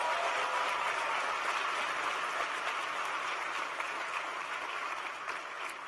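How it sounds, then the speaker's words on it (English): A large audience at a Young African Leaders Initiative event gives sustained applause, a dense, even wash of clapping that holds steady and tapers slightly at the end. "Give them a big round of applause for their support"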